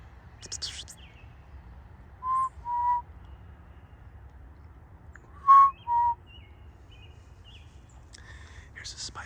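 A forest bird gives a warning call: two pairs of short, clear whistled notes, quiet and slightly distant, separated by calm forest stillness.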